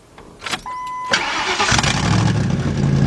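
A 1997 Ford F150 pickup with a 4.6 engine and a no-start problem cranks briefly after a few clicks, then catches into a loud, steady running drone close by.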